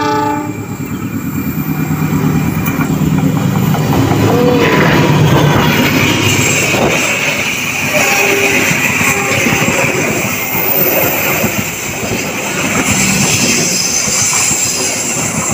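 The Jayabaya passenger train rumbles past close by at Lamongan station, Indonesia, with a loud horn blast and rhythmic clacking of wheels, the roar holding steady throughout.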